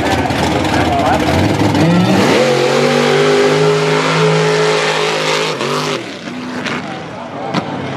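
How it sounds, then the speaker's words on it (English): A loud truck engine revs and roars up through its gears at a mud race, holding a strained drone before easing off, with crowd noise and talk beneath. "James Boswell on his truck."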